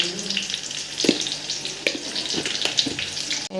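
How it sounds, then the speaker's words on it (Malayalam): Onions sizzling in a pan with rock salt as they are stirred, a constant crackling fry broken by scattered scrapes and taps of the spoon. "സവോള ഇട്ട ശേഷം നന്നായി കുറച്ച് കല്ലുപ്പ് ഇട്ടിട്ട് ഇളക്കുക."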